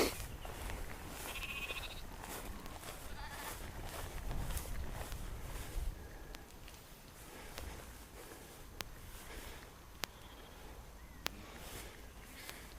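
Sheep bleat in an open grass field among grazing livestock, with faint calls scattered over a steady outdoor wind rumble and a few footsteps nearby.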